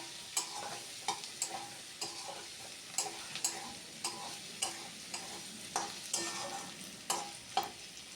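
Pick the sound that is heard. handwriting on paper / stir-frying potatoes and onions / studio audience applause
stir-frying potatoes and onions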